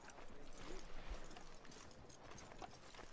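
Horse hooves clip-clop steadily on the ground in Red Dead Redemption 2, a continuous moderate rhythm under a dense layer of game ambience with faint talk mixed in.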